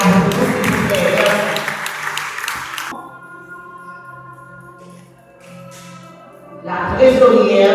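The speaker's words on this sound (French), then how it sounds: "Applaudissez-la pour s'il vous plaît." Applause rises from a conference audience, loud for the opening seconds, then cuts to a quieter stretch of tones and murmur before clapping swells again at the end.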